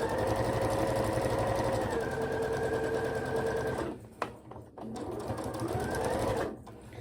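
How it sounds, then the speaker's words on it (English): A home sewing machine runs steadily, its motor whirring with rapid stitching pulses for about four seconds. It pauses briefly, then resumes for a second stretch before stopping. It is close and loud, with no talking. "I learnt how to use my sewing machine"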